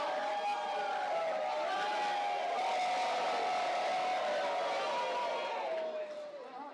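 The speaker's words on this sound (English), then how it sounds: "The crowd howls with him." Sustained crowd noise with a long howling wail from wrestling fans at an Eddie Kingston vs. Davey Richards match, steady and loud throughout before easing off at the end.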